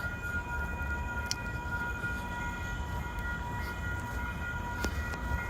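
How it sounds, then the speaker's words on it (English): A train rolls past outdoors at a distance, a steady low rumble with faint high steady tones and a couple of brief squeals, fairly quiet throughout. "You guys hear the train again?"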